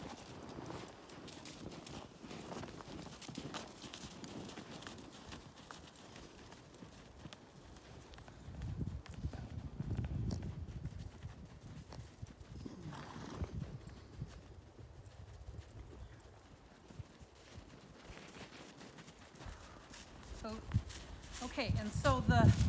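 A ridden horse walks with soft, irregular hoof clip-clops under ongoing talk and faint background noise, growing a little louder toward the end.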